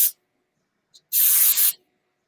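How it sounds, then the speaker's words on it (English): An airbrush sprays paint onto a decorated cookie: a short hiss, a tiny spit, then a steady, close, loud spray burst of about half a second that cuts off abruptly into silence. "if you go now further, it'll widen your spray, and it won't be as intense"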